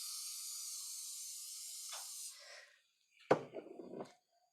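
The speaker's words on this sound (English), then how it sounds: "what I'm gonna do is spray the pan" Cooking spray hissing from an aerosol can onto a baking pan in a home kitchen, a steady close spray lasting about two seconds, followed by brief clatter and handling noises.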